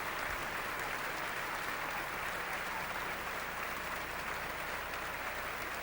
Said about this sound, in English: accepting the enthusiastic applause of tonight's audience at this centennial concert